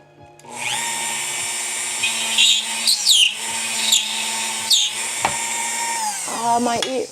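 Squeaky high-pitched drilling into a WiFi Pineapple Pager case for an antenna mod, a steady whining tone with wavering pitch squeals, loud and close, ending in a short wind-down.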